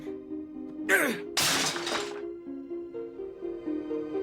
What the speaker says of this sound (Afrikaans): Gooi hom stukkend op die vloer.